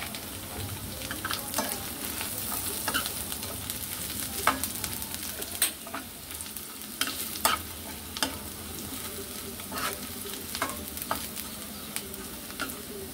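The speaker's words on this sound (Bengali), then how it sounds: "ভালো করে নেড়ে চেড়ে নিচ্ছি" Onions frying in oil with black cumin, a continuous sizzle under frequent scraping strokes of a spatula as the pan is stirred steadily.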